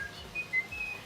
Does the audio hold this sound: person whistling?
yes